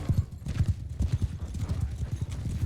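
Horse hooves clip-clop in a strategy video game battle with mounted archers, a rapid steady rhythm of many hoofbeats continuing throughout, with a faint neigh and a voice speaking over it.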